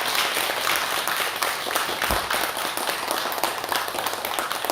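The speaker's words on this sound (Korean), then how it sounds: "정말 감사한 마음을 담아서 박수를 크게 드리겠습니다." Sustained applause from an audience at a Buddhist dharma service, a dense, steady wash of clapping that stays loud for the whole stretch with no voices on top.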